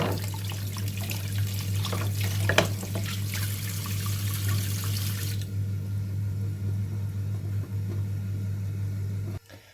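Tap water pours steadily into a sink while wooden spoons are washed, a constant close rush over a low hum, with a brief clatter early on before the flow cuts off abruptly at the end.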